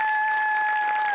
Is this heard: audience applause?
yes